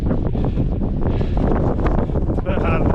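High wind buffets the microphone on Mt Oxford, a heavy low roar that rumbles continuously and close, while someone speaks over it.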